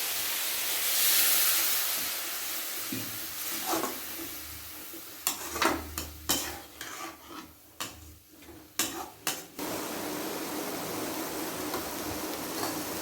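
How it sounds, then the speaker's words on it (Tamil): Chopped banana flower simmers in a pan on a low gas flame with a little water, giving a soft, steady sizzle and hiss, broken midway by a series of sharp, close spoon-stirring scrapes and taps, then the quieter sizzle again. "ஒரு 1/2 டம்ளர் தண்ணி ஊற்றி வேக வைக்கணும்"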